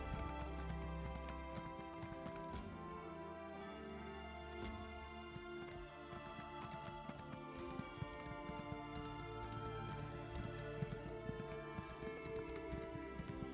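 Galloping horse in the Elder Scrolls Online video game, steady hoofbeats running continuously under a dense layer of game music and ambient sound, with a brief whinny possible.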